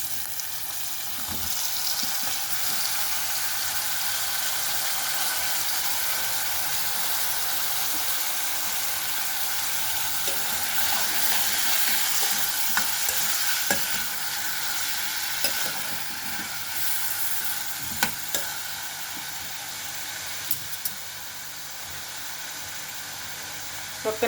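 Tomatoes frying in a pan for simple tomato dal, a continuous close sizzle and hiss that stays steady throughout, with a few light clicks of utensils.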